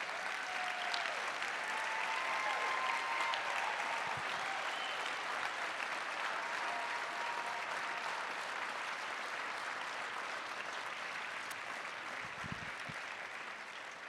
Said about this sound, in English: if you guys would please give them a gigantic round of applause